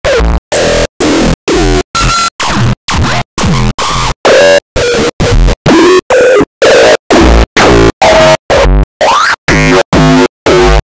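Hardcore effect kick drum samples at 180 BPM, each a loud, heavily distorted, pitched and processed hit with its own tonal sweep, played one after another in a steady series of roughly two dozen separated by short gaps.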